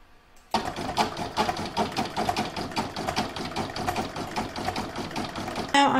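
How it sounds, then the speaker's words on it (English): An embroidery sewing machine stitches a satin stitch around a bauble design. It starts after a brief silence and runs as a steady, loud, rapid mechanical chatter with dense repeating needle strikes. "I'm now going to pop that back in my machine and I'm going to stitch round number 18, which is a satin stitch around the bauble."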